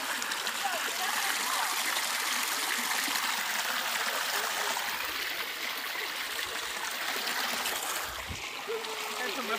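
Waterfall and stream in California seen up close: a continuous broad rushing of flowing water fills the whole stretch, loud and near, with a person's voice faintly under it.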